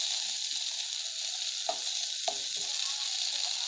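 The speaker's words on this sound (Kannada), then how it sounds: "ಬೇವಿನ ಹೂವನ್ನು ಹಾಕಿ. ಒಂದು 10 ಸೆಕೆಂಡ್ ಇದನ್ನು ತುಪ್ಪದಲ್ಲಿ ಚೆನ್ನಾಗಿ ಬಾಡಿಸ್ಕೊಳ್ಳಿ." Neem flowers sizzle steadily in hot ghee over a medium flame, a continuous bright frying hiss with a few sharp scraping stir strokes from a spoon, no voices.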